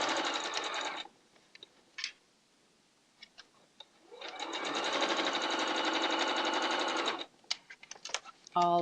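A sewing machine runs a quilt seam on a disappearing nine patch block in two steady bursts, a short one and then a longer continuous run, with quiet gaps, small clicks and brief handling noises between them.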